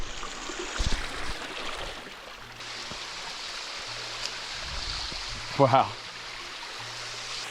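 A small waterfall in a secluded Australian oasis, splashing water runs steadily in the background while a person speaks briefly and quiet footsteps and rustling move close by.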